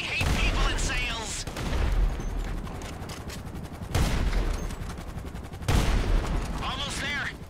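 Heavy gunfire in GTA 5 while fighting an arms dealers' convoy and a twin-rotor helicopter: bursts of rapid shots and booms come in waves, with radio voices and other talk mixed in between.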